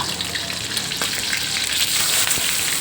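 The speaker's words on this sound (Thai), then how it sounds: "ปลาทูนึ่งทอดนะคะ" Steamed mackerel fries over low heat in a pan, giving a steady, close crackling sizzle that runs unbroken for the whole stretch with no voices.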